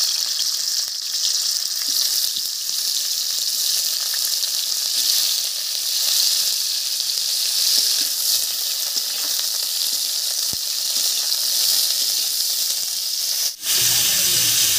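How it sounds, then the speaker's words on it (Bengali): Cauliflower fries in mustard oil in a wok with a touch of turmeric, giving a steady, even sizzle and hiss that continues throughout at moderate volume, ending with a brief knock. "এই তেলের মধ্যে এবার ফুলকপিটা ভেজে নেব।"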